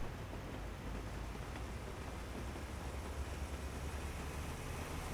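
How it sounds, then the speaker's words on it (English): A loud, dense rumbling roar fills the scene without pause, a massive train passing close by, heard in American Truck Simulator. "that's a massive train going by"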